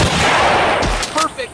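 A loud sniper rifle shot goes off in the Hunting Sniper mobile game, a sharp blast followed by a booming echo and brief game effect tones near the end.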